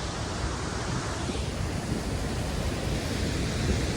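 Steady, loud broadband rush of rain and blown water spray at a scenic outdoor spot, continuous and unbroken with no voices.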